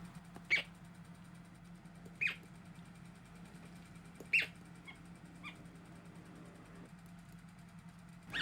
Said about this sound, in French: on peut déjà entendre les premiers cris du cigogneau à l'intérieur de l'œuf